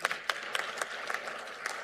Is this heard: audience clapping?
yes